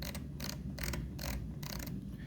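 A rotary knob turned on a Hamilton T1 ventilator while the setting is adjusted, giving four or five short bursts of close, crisp ratcheting clicks over a steady low hum from the machine.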